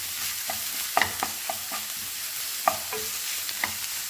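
Curry leaves stirred and fried in a pan for a spicy chicken roast, a spoon clicking and scraping in irregular strokes over a soft sizzle, close with no talking.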